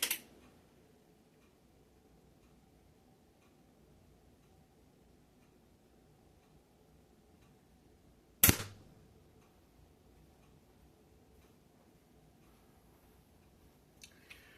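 Umarex Ruger Mark IV .177 air pistol firing at targets: a sharp pop opens the clip, a second loud crack lands near the middle after quiet, and a fainter snap comes at the very end.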